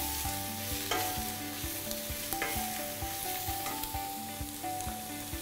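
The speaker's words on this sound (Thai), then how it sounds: "ผมจะผัดจนหอมใหญ่เนี่ยครับมันนิ่ม" Sliced onions and a little garlic stir-fried in a pan until soft for an onion soup, giving a steady close sizzle broken by repeated scraping and stirring clatter, with no talk.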